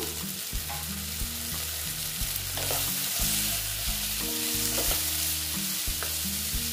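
Steady sizzling of potatoes, pointed gourd and spiny gourd frying in a pan, with occasional scraping and stirring sounds, close and continuous throughout.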